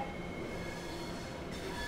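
A 4659 version train in the SCR railway video game runs with a quiet, steady hum and faint rolling rumble, with no voices.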